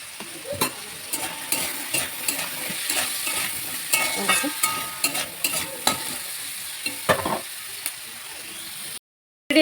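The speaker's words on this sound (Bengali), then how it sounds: "এই দেখো আলুটা প্রায় আমার ভাজা হয়ে গেছে, দেখতেই পাচ্ছ।" Small potatoes fry in a pan with salt and turmeric, giving a steady close sizzle broken by repeated scraping and stirring clicks, with no voice present and a brief silence near the end.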